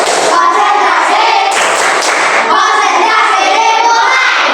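A school classroom of children does a rhythmic concentration clap, loud close clapping in quick patterned bursts, with the children's chanting voices mixed in.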